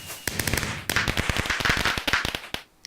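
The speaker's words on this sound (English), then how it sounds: "Lovely fireworks." Fireworks exploding in a video game: a dense, loud burst of sharp crackling pops, like firecrackers, running for over two seconds before cutting off.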